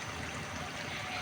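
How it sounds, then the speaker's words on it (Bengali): Half to a quarter cup of water poured into a pot of beef and potatoes during cooking gives a steady, rushing trickle that fills the short moment with no voices. "আমি এখানে হাফ কাপ পরিমাণে পানি দিয়ে দিলাম।"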